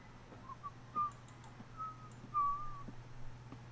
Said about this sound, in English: I do love how the workers whistle the Planet Coaster theme song as they're walking around the park